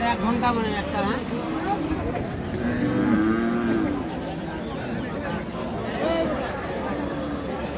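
Cows, some with calves, moo repeatedly at a busy village cattle market, Ambari haat. The lowing is drawn-out and mid-distance, over a steady murmur of crowd chatter and voices.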